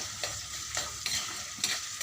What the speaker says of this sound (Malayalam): വെളിച്ചെണ്ണ ചൂടായപ്പോൾ കടുകും ഉലുവയിട്ടു